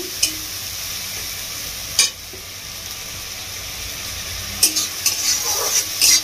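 Ginger-garlic paste frying over a gas flame gives a steady close sizzle, broken by a few sharp scraping stirs near the start, around two seconds, and several more toward the end, with no talking.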